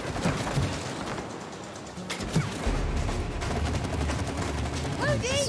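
Gunfire in the video game It Takes Two comes as rapid bursts and scattered shots over a busy game soundtrack, with players talking faintly in the background.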